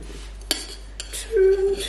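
A metal straw clinks against a cup: two or three bright, light taps close by, followed by a short ringing metallic tone.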